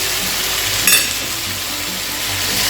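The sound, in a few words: ginger garlic paste frying and sizzling in a pan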